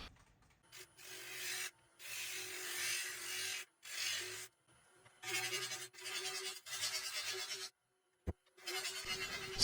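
Wood lathe with a large platter bowl held in a Vicmarc 150 chuck, a tool hollowing its inside: loud raspy scraping cuts in repeated bursts of one to two seconds, separated by short pauses, with the spinning motor's steady hum beneath.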